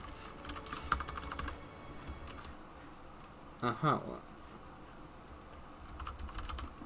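Rapid clattering keystrokes on a computer keyboard come in quick bursts, fairly close but quiet, with a louder cluster of taps midway and a brief murmur of speech.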